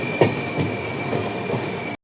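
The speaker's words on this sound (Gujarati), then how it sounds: "આપણી ટ્રેન અત્યારે લૂપમાં જઈ રહી છે, લૂપ લાઇનમાં." The Indore-Veraval Mahamana Express, hauled by a WAP-7 electric locomotive, rumbles steadily onto a loop line on a single-line section, with a faint thump of wheels and a thin high hum heard from inside the coach.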